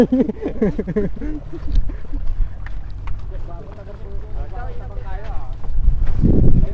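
An outboard motor of about 400cc on a bangka outrigger boat idles steadily with a low rumble, its drone running under people talking in Tagalog on the water, with wind buffeting the microphone and rising louder near the end.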